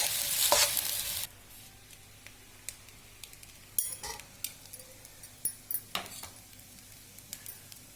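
Rice being stirred into a pan for mint rice gives soft scraping and clinking strokes at an irregular pace over a faint sizzle, after a brief louder hiss at the start.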